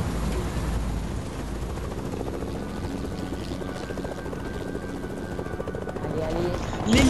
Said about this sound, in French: L'hélico il est un petit peu mal en point.